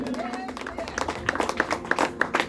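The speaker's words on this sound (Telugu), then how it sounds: "గట్టిగా యేసయ్య చప్పట్లు కొట్టండి ఒకసారి" Church congregation in Muttukur clapping their hands together at a gathering, a quick uneven patter of claps building in the room with voices mixed in underneath.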